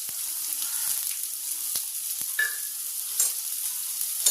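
Garlic with turmeric, chili and black pepper powder frying in a pan for a lemon-leaf rasam, giving a steady close sizzle broken by a few sharp scrapes and clicks of stirring.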